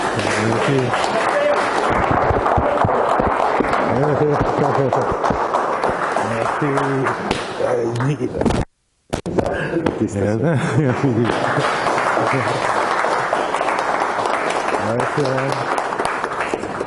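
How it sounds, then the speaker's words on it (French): At a jiu-jitsu belt ceremony in a Nice gym, a group applauds and cheers for a long stretch, with a short gap midway. Voices and shouts mix throughout the steady, dense clapping. "Allez, on applaudit Jean-Charles, les gars, s'il vous plaît."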